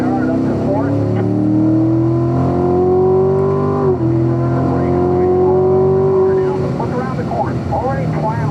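A Corvette Stingray accelerates hard on a race track. The engine is loud and close, climbing steadily in pitch, dipping briefly at a gear change, then climbing again before easing off.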